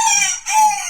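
A small rooster crows a short, high-pitched call, loud and close, in two strained bursts split by a brief break.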